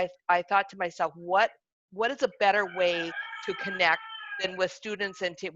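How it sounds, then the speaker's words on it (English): A backyard rooster crows cock-a-doodle-doo behind a person talking, its drawn-out call overlapping the speech for about a second midway. "I don't know if you can hear my rooster cock-a-doodle-doing in the background."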